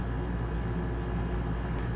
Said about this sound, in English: I apologize for the noise from the air conditioner.